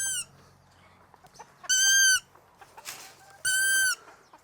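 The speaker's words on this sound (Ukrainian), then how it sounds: "Це називається дитинча сови вухатої." Long-eared owl chick giving two loud, drawn-out, harmonically rich squealing calls about two seconds apart, close to the microphone, with faint rustling and small noises in between.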